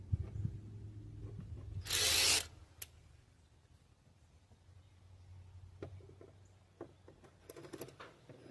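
A ratchet tightens screws on a vehicle interior panel in a GMC Sierra, giving a short burst of clicking near the start, then quieter scattered mechanical clicks and taps, close up with no talking.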